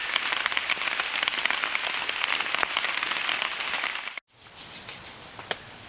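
Steady rain pours onto a backcountry bivouac camp on a hillside, a dense, close patter of drops that cuts off abruptly, then returns more softly with a few sharper taps.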